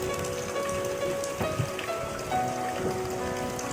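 Heavy rain pours steadily onto surfaces, a dense, continuous patter with scattered louder drops, close by and with no voices.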